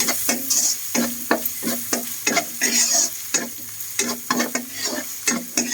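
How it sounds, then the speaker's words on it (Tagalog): Ground pork for lumpia filling sizzles in a pan while being stirred, with rhythmic scraping strokes about every half second over a soft, steady frying hiss. "pwede na nating ihalo pati yung pork"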